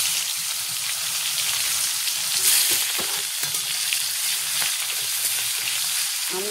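Chopped onion hitting hot oil in a wok seasoned with five-spice tempering, a close, steady crackling sizzle with a few stirring clatters, no voices.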